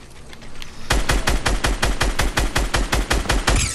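Rapid automatic gunfire in a shooter video game, a steady burst of evenly spaced, punchy shots, about a dozen in quick succession, loud and close after a quieter lead-in.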